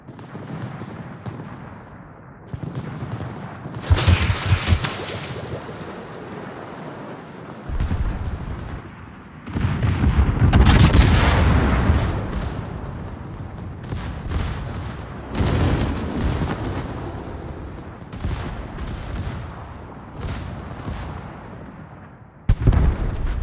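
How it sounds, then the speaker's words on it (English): Naval artillery salvos in a tier ten warship battle game on the Napoli, repeated loud booming gunfire blasts with rumbling decay, several heavy volleys spread across the stretch. "Concentrate fire on that enemy warship."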